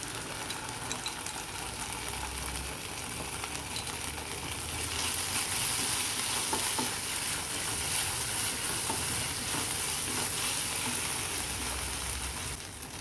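Rice stir-fried in a pan with schezwan chutney and red chili sauce for restaurant-style fried rice gives a steady, close sizzle with continuous stirring and scraping throughout, and no talking.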